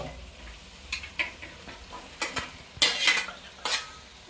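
Chicken pieces being stirred into masala in a pot for Bangalore-style Eid biryani, with intermittent scraping and clinks of a spoon against metal over a low sizzle, up close.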